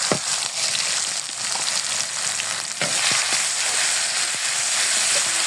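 Ginger, garlic and cumin pastes with biryani spices fry in a pan for chicken biryani, a steady loud sizzle with scattered crackles and spoon-stirring scrapes throughout, no voices.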